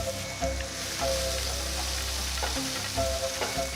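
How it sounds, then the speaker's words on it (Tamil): Two chopped medium onions sizzle and fry in hot oil, a steady loud crackle with occasional stirring scrapes, no talking. "இப்போது இதில் 2 மீடியம் சைஸ் வெங்காயம் பொடியாக நறுக்குனது அதை சேர்க்குறேன்."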